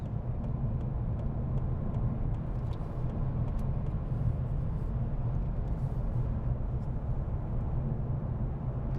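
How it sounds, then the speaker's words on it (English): A car rolls along a city road at night as a steady low rumble of engine and tyre noise, loud and constant throughout, with no voices. "And this car slowed down."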